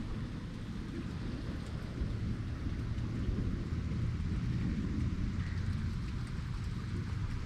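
Steady rain falling outdoors during a storm, a dense, even hiss of drops throughout, with a low rolling rumble of thunder underneath swelling slightly mid-way; no voices.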